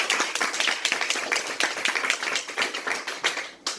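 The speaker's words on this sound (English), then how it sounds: "Round of applause again, my people." Applause at a comedy night, a close, lively burst of clapping with distinct sharp hand claps in an uneven rhythm, fairly loud and tapering off near the end.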